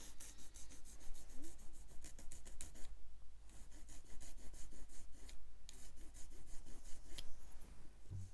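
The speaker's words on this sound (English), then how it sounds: "if you listen carefully to this as I file it, you'll find that the sound will change when you've removed the sprue nib" A metal file rasps steadily across a plastic sprue nib on a 1/35 scale Tamiya M4 Sherman kit part, close and dry, in quick repeated strokes with a brief pause midway.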